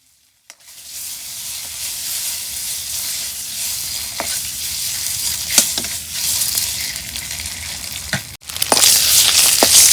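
Eggs frying in hot oil in a pan give a steady, loud sizzle that starts abruptly after a brief silence and runs on with faint crackles, breaking off for a moment near the end before resuming.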